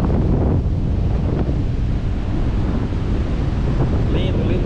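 Sea waves and wind on a deserted beach at Barra de Camaratuba in Paraíba, a loud continuous roar of surf with heavy wind buffeting the microphone throughout.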